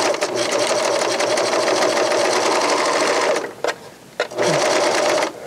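A Janome AirThread 2000D serger runs fast and loud, sewing a hem on a scarf with a steady mechanical whir, briefly pausing twice before resuming.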